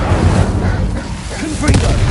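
A fire spell is cast in the Hogwarts Legacy video game, a short loud burst of booming, crackling impact over dense game noise, lasting about two seconds.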